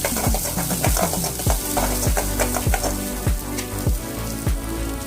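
Chopped onion sautéing in hot oil in a pan while cooking curry leaves rice, a steady loud sizzle with regular rhythmic scraping strokes of a stirring spoon.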